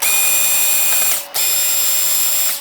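A small power screwdriver or hand tool loosening screws inside a Sony Giga Juke unit, giving a steady close whirring with a brief break near the middle before it resumes.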